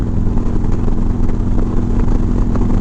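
A big motorcycle engine rumbles loudly and steadily close by, a continuous low throb with a faint mechanical clatter and no pause, and no voices over it.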